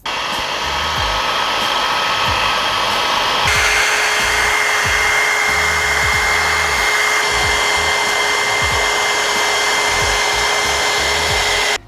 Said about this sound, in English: the next step is to use your heat gun or hairdryer to go around the edges